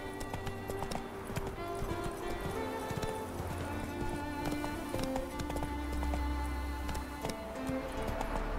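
Roach, the horse in The Witcher 3, clip-clops along with steady hoofbeats over a game soundscape, the rhythmic steps close and even throughout, with a faint voice and a possible snort mixed in.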